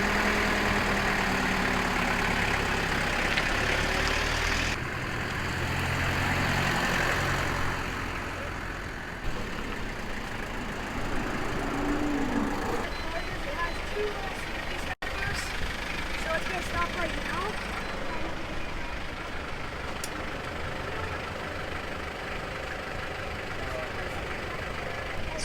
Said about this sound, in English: So that's the diesel Mazda Bongo with the pop top.